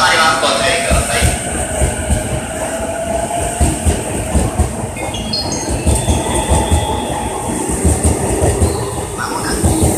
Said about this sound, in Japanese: 3番線から磯子駅へ発車いたします。